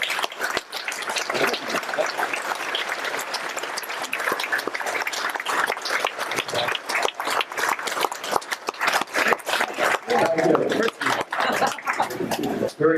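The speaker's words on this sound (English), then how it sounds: "Let's give Bill a big hand." Audience applause at a candidates' night meeting, steady dense clapping throughout, loud and close, with some voices and chatter mixed in.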